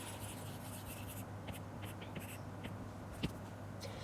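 Marker or chalk writing on a board during a chemistry lesson on haloalkanes and haloarenes, faint scratchy strokes over a steady room hum, with one brief tap near the end.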